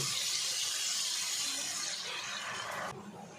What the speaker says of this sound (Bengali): দেখো এবার পরিমাণ মতো আমি এখানে জল দিয়ে দেব